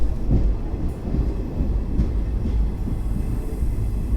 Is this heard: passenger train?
yes